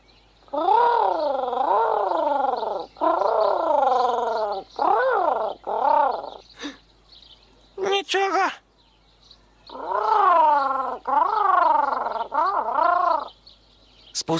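A voice imitates pigeons cooing in repeated warbling, throaty phrases with short gaps between them, close and fairly loud, with a brief burst of noise in the middle.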